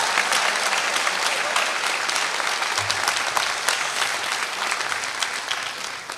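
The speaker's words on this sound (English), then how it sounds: "giving a very well-deserved round of applause to our outstanding jazz band" An audience at a high school senior awards ceremony applauds the school jazz band, with steady sustained clapping filling the hall throughout.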